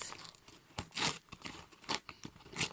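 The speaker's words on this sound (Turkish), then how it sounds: "Makas." Close, crunchy snips and crinkling as something is cut, several irregular bursts without speech.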